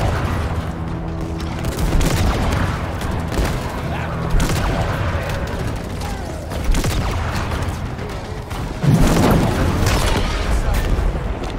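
Battle in Halo Infinite with heavy booms and bursts of gunfire, a loud explosion surging near the end over continuous combat noise, with a voice talking at moments.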